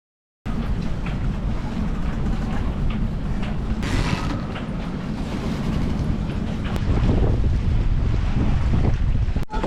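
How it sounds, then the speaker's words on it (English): Strong wind roars and buffets around a sailboat, constant and loud, with occasional creaks and gusts rising toward the end. "It got pretty windy again."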